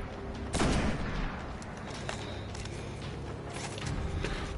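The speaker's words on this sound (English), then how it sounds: "This is a wire rifle that the, Vandals use" Wire rifle gunfire from Destiny, used by Vandals, amid a battle: a loud nearby blast followed by scattered lighter shots and crackling combat noise, with no talking.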